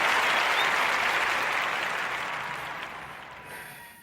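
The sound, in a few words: round of applause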